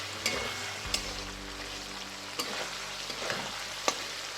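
Slit boiled eggs fry in oil with spice masala for an egg and chana dal dish, giving a soft, steady sizzle with occasional sharp pops and spatters, close up and without talk.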